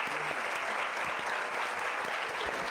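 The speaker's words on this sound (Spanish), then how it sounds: "un aplauso muy fuerte a doña Diva Castelli" Brief, dense applause from the audience at a legal forum on preventing femicidal violence, continuous clapping at steady volume with no voices over it.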